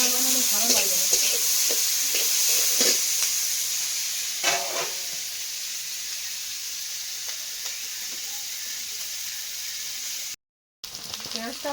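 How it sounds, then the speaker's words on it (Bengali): Onions sizzle steadily in a hot pan for a duck curry, with scraping stir strokes breaking through the constant frying hiss and a brief drop-out near the end. "পেঁয়াজটা ভাজা ভাজা হয়ে গেছে"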